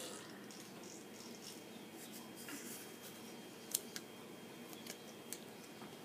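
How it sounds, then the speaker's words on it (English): Faint, crisp snips of scissors trimming painter's tape, a few quick clicks scattered over a quiet hiss of room noise. "I'm going to use some scissors and trim down my tape"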